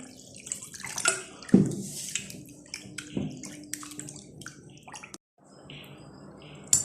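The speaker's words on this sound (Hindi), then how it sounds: "2 से 3 बार पानी डालकर कलेजी को अच्छा सा धो लें।" Water splashes and pours as raw liver is washed in a bowl, irregular close sloshing and drips with a short pause near the end.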